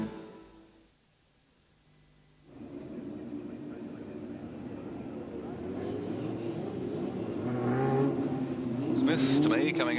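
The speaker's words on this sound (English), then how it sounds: "these, of course, are the Formula 1 cars coming out on the track to begin their warm-up in preparation for their event" Formula 1 race cars rolling onto the Calder Park circuit in Melbourne for warm-up at a 1983 race meeting. After a brief lull, a broad engine roar swells and keeps building, with revving rising near the end.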